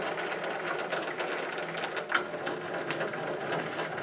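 The cross feed screw of a South Bend lathe is turned front to back, giving soft, irregular mechanical clicks and ratcheting ticks at a low, steady level with no speech.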